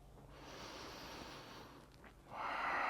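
Slow, audible breathing during a prenatal yoga session, a long soft exhale followed by a stronger, louder breath close to the mic, with no speech.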